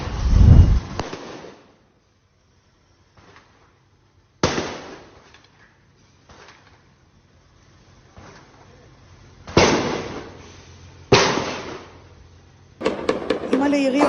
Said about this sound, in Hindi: אימא'לה יריות, יריות